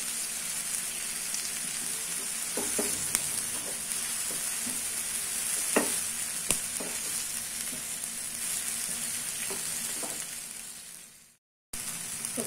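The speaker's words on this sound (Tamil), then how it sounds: "பாருங்க, தக்காளி வதங்கிடுச்சு." Tomatoes with salt sautéing in a pan for chicken potato curry, giving a steady, close sizzle and crackle with occasional small pops and stirring scrapes, ending in a brief pause.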